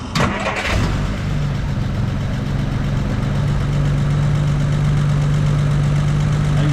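A car engine cranks briefly with a few sharp clatters, catches within the first second, and settles into a steady, loud, even idle that holds alone for several seconds.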